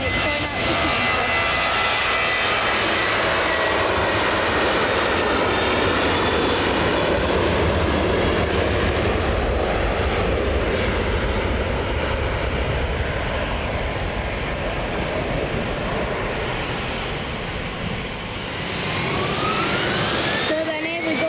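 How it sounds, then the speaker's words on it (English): A 15-year-old Ryanair Boeing 737-800 departs Manchester Airport bound for Geneva, its loud jet roar sustained and steady throughout, with a rising engine whine near the end. "Here goes this Ryanair Boeing 737-800. This aircraft is 15 years old and it's going out to Geneva."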